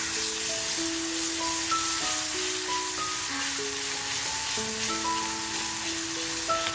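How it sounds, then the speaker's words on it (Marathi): Crushed green chili thecha frying in hot oil with a little coriander, a steady close sizzle running throughout with light stirring and no voices. "जो आपण ठेचा करून घेतलाय बघा तो ठेचा छान असा तेलामध्ये टाकून फ्राय करून घ्यायचं"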